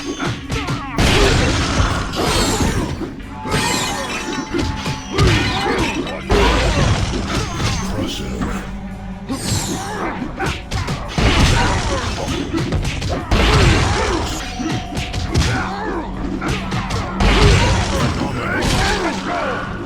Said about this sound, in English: Listen to how hard it sounds when he smashes enemies with his icy hand attacks.